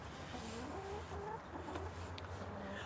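Chickens in a chicken house cluck softly in short repeated notes, quiet and close, with a few higher calls over a faint background.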